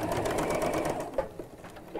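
Domestic sewing machine top stitching across a small heart-shaped pin cushion, a steady close whirring drone that runs continuously, then eases into short separate bursts near the end.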